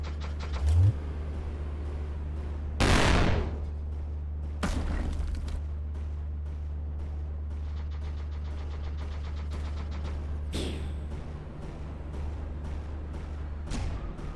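Weapon fire in the VR game Monster: Titan's Playground: a handful of short, sharp bursts spaced irregularly over a constant low hum, with a louder blast near the start and fainter hits later.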